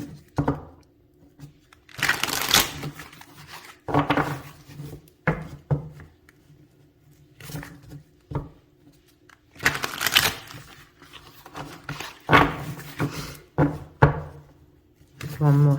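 Tarot cards from a Capybara Tarot deck being shuffled by hand in repeated bursts of riffling and sliding, close and fairly loud, with quiet pauses between.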